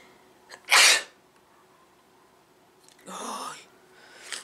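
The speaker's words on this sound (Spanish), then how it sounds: "me va a dar el estornudo" A person indoors sneezes once, loud and sharp, followed by a softer breathy exhale and a faint rustle, with quiet room tone in between.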